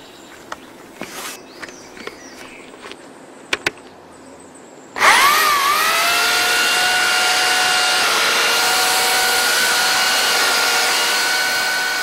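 A few scattered knocks and clicks, then a Gardena electric chainsaw starts up with a sharp whine and runs steadily, loud and continuous until the end.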